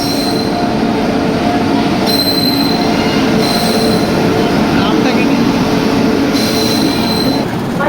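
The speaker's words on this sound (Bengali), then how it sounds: "আমাদের ট্রেন চলে এসছে" A train pulls into Katihar Junction with loud, sustained wheel squeal and rumbling carriages. Sharp squealing peaks come and go over the clatter, and faint voices sit in the background of the station.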